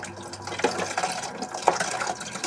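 Plates are washed under a running tap: a steady splash of water with brief clinks and rubbing sounds from handling dishes, close by and moderately loud, with no talking.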